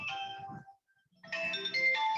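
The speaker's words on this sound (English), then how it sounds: "Sorry, I have to pick up the phone." A phone ringtone plays alone as a bright, melodic electronic jingle in two bursts separated by a short gap of silence, moderately loud and close.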